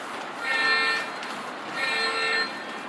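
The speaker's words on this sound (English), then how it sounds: "It's got horn." Two sustained blasts of a model train engine's electronic horn, played close and clear, each lasting about half a second to a second with a short gap between.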